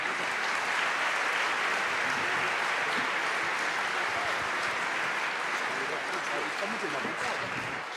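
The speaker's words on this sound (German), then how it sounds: "Einen großen Applaus, bitte." Sustained applause from a large conference audience at re:publica, a dense, steady wash of clapping that holds loud throughout and eases slightly at the end, with faint voices mixed in.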